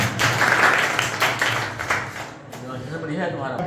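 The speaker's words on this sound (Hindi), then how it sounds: "आप लोगों के लिए जोरदार तालियां" Enthusiastic clapping from a crowd of students and teachers at a government school science exhibition, bursts of applause fading toward the end, with a voice speaking over it.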